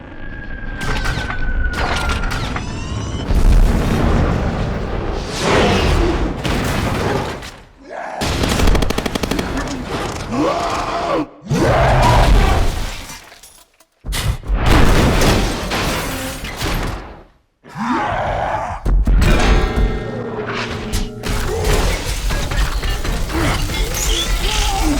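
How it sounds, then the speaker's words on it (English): Iron Man and Hulk battle in The Avengers with loud, dense crashes, booming blasts and rapid gunfire-like bursts, broken by a few brief near-silent gaps. "in this scene, basically Iron Man and Hulk battling each other and the destructive elements that go with it"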